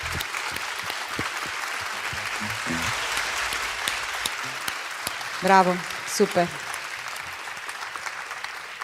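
An audience at a climate change summit applauds the organizing teams with thick, continuous clapping, while a few voices call out cheers partway through over the steady roar of hands.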